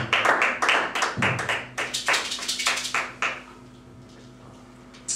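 A church congregation applauds the Lord at a service with Pastor Aristote, giving brisk, close hand clapping in a dense burst that thins into scattered claps and fades out after about three seconds.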